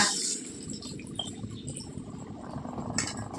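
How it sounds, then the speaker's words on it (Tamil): Tamarind water pours into a simmering eggplant tamarind curry in a pan, giving a quiet liquid splash and faint clinks against the vessel. "புளி தண்ணியை உள்ளே சேர்த்துக்கோங்க."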